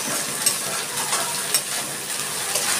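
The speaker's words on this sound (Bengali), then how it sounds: "আমি দিয়ে দিচ্ছি একটু আদা বাটা।" Ginger paste fries with onions in oil in a pan while cooking chicken kosha, making a steady bright sizzle with a few soft stirring scrapes and no talking.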